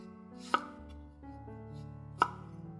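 A kitchen knife dices a tomato on a cutting board for fried rice, two distinct sharp chops about a second and a half apart over a quiet humming background.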